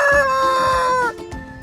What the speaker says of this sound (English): Chicken sound is called cluck.